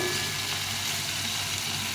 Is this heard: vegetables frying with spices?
yes